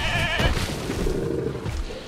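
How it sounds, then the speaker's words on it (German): A small sheep bleating in Jurassic World Evolution 2, a short wavering bleat near the start against a steady background ambience, no speech. "Wie klein das Schaf war"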